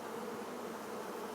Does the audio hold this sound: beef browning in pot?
no